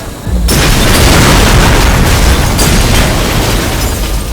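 An explosive barrel blows up in a bathroom in the video game Hatred, a sudden very loud boom that bursts in after a short quiet moment and then sustains as a roaring blast with a second crack partway through.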